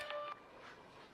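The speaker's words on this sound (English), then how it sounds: "Is that your phone? Yes, that's my phone." A short electronic phone alert with a few bright, clear tones, loud at first and then giving way to quieter room ambience.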